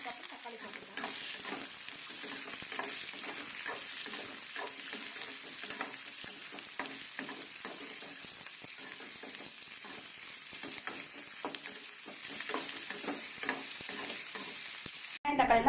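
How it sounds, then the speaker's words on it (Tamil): Onions and tomatoes fry in a pan for a carrot chutney, a soft steady sizzle with repeated scraping stirs, faint and close throughout. "வெங்காயம் கொஞ்சம் வதங்கினதுக்கப்புறம் தக்காளி சேர்த்துக்கலாம்"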